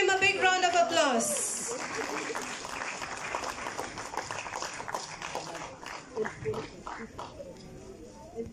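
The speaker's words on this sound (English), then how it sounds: "Please give him a big round of applause" Audience applause at a kindergarten graduation ceremony, a steady crowd clapping that rises quickly after a brief voice at the start and carries on evenly, with scattered louder claps near the end.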